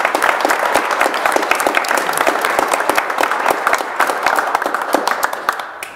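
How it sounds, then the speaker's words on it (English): A church congregation applauds Boy Scouts at a worship service, dense steady clapping filling the room evenly for several seconds before tapering slightly at the end. "Let's give all of our Boy Scouts one more round of applause for the stuff that they're doing."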